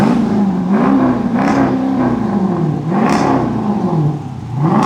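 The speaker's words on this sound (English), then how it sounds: "Let me get a couple revs, bro." A 2023 Dodge Durango SRT with an X-pipe and G-Pack mufflers exhaust revs up and down several times, a loud, close, throaty engine note rising and falling in repeated swells.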